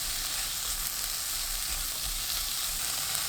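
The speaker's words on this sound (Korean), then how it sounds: "팬에 식용유 1큰술, 다진 마늘 깎아서 1큰술, 양파, 파 넣고 센 불로 1분 볶습니다." Minced garlic, onion and scallion fry in a tablespoon of cooking oil in a pan over high heat. A steady, close, even sizzle holds throughout.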